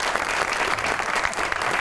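A lively television comedy show studio audience claps, a thick, continuous burst of many hands applauding at close range, steady throughout.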